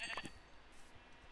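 A single faint, brief sheep bleat from Minecraft at the start, followed by quiet low background noise.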